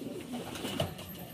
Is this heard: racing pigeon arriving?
yes